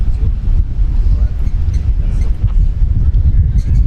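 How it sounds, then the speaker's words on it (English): Strong wind buffets the microphone at an outdoor college lacrosse game in Fort Worth, a loud, continuous low rumble with faint voices in the background. "And boy, do we have ourselves a windy afternoon, windy evening here in Fort Worth."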